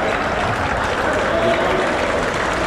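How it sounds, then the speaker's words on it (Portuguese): A crowd at a masters handball game in Rio de Janeiro claps steadily, a dense continuous applause filling the whole stretch, with a commentator's voice running over it. "É aplaudido aqui pelo pessoal do Rio de Janeiro"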